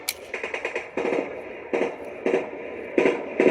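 Soldiers fire several sharp gunshot bursts, first a rapid cluster of shots, then single loud cracks spaced about a second apart, with no talking.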